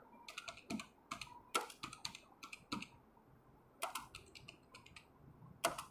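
Fingers tap a computer keyboard in short irregular bursts of crisp key clicks, quiet and close with brief pauses between strokes, no talking.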